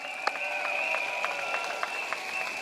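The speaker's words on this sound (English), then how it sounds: "Let us give them a big round of applause." Scattered crowd clapping at an outdoor PAP election rally in Punggol, with distinct individual claps popping out over a thin applause bed and a steady electronic hum from the public-address setup.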